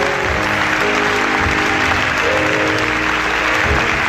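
A church congregation clapping and cheering together, a dense, loud, sustained wave of applause with no break.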